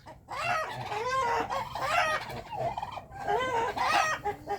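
Turkeys cluck and gobble in a loud, steady run of overlapping calls as newly combined birds squabble and fight, with several harsh bursts rising and falling close by and no voices.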